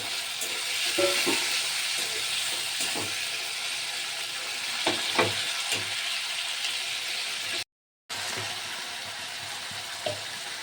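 Tomatoes fry in a hot pan with ginger for a bottle gourd and lentil dumpling curry, a steady moderate sizzle with occasional soft pops and stirring scrapes, broken by a brief silent gap.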